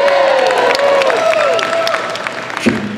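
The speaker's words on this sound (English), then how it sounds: "I'll tell you anything for a round of applause." After a diablo spinning demonstration, a live audience claps and cheers, giving a busy, close crowd sound. A steady whirring tone glides beneath it, and a voice speaks briefly near the end.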